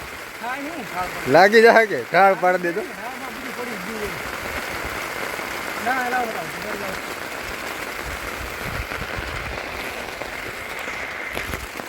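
Steady rain falls outdoors at a camping site, a continuous even hiss lasting most of the stretch, with people talking briefly near the start before the rain carries on alone.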